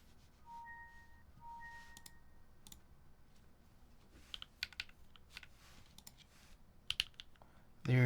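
Keystrokes on a custom Moments mechanical keyboard fitted with Tomorrow switches, scattered sharp clicks and clacks in short bursts, fairly close and moderately loud over a quiet background, with a louder thump at the very end.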